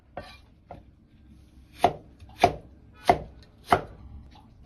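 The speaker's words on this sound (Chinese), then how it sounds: "然后再切成这样的粗条" A knife chops through raw celtuce stem, cutting it into thick strips on a board: two light taps, then four loud, evenly spaced chops close by, with no voices.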